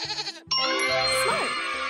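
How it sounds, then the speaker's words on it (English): A goat bleats in a children's animal-sounds game, a single quavering, nasal bleat that follows a bright chime and rings on to the end. "Goat."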